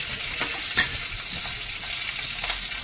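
Chilli, mustard seeds and curry leaves tempering in hot ghee in a kadhai, a steady soft sizzle with a few brief crackles and pops, no talking.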